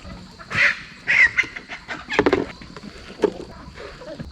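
Chickens clucking inside a homestead coop with fresh bedding, several short close squawks and clucks scattered among rustling and light handling noise.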